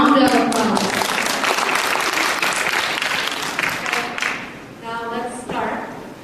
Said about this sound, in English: Let's welcome now with a round of applause